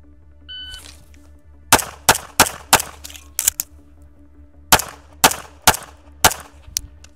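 Atlas Apollo pistol fired at 3 meters in a close-range drill: five sharp, loud shots in quick rhythm, a pause for a magazine reload, then six more rapid cracks.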